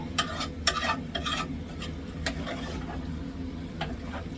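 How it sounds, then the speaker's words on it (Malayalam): Chicken is stirred into masala in a pan for a chicken curry, with quick scraping strokes in a cluster early on, a few later scrapes and a faint sizzle underneath, close and without speech. "ചിക്കൻ ഇട്ട് നന്നായിട്ട് ഒന്ന് ഇളക്കി കൊടുക്കുക"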